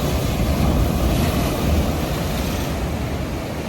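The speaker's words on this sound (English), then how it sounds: "This is splashing like that." Steady rushing surf with a broad roar of breaking sea waves, loud and continuous, mixed with wind buffeting the microphone.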